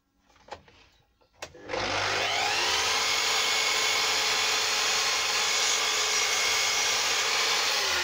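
Power saw cutting wooden door stiles to size for kitchen fitting: a couple of sharp knocks, then the motor spins up into a loud, steady, close whine that holds to the end.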